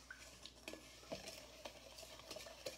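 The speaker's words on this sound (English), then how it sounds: "Mix the two oils and the salt together." Salt and two oils being stirred together in a bowl for a homemade body scrub, giving quiet scraping and swishing strokes in an irregular rhythm, close and faint, with no talking.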